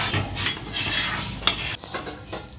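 A spoon stirs potol korma, a pointed gourd and potato curry finished with ghee, in a pan. Loud metal scrapes and a few clinks sit over a soft sizzle, and no one talks.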